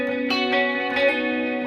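Electric guitar from a Music Man, played on the middle pickup through delay, chorus and reverb effects, ringing out sustained chords with shimmering repeats and a wash of ambience, steady and fairly loud throughout.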